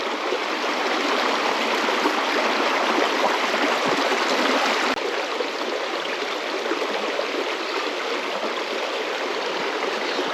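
A clear, bouldery river flowing over a rocky bed, a steady close broadband rush of water with no pauses and no voices.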